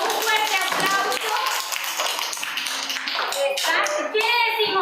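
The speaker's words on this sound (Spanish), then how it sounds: "Vamos a darle la bienvenida a Noemí con un fuerte aplauso" Schoolchildren in a classroom clapping to welcome a new girl classmate, their claps mixed with loud children's voices calling out throughout.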